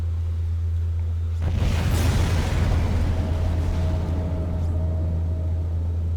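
A sudden loud explosion in Dead Space bursts in close by, then rolls into a long, heavy rumble that slowly fades over a low steady drone.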